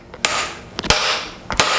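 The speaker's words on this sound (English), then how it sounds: "I don't want anyone criticizing me that I'm using this hammer." A hammer taps a crank timing gear onto an engine crankshaft, three sharp metallic strikes spaced unevenly, each with a smaller preceding tap, ringing close and loud.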